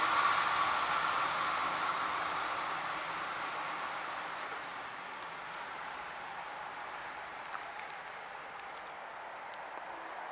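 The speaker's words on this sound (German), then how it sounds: "ICE Richtung Würzburg." An ICE high-speed train passing on the new Spessart ramp near Laufach, heading toward Würzburg: a broad steady rushing roar that fades slowly over several seconds, with faint high whines and occasional ticks.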